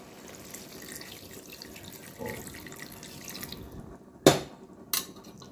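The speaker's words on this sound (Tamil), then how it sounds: "இப்போ இந்த சிக்கனுக்கு வே தேவையான அளவு தண்ணி ஊற்றிக்கிறோம்" Water is poured into a pot of country chicken curry, a soft running-liquid sound for several seconds, followed by two sharp knocks near the end.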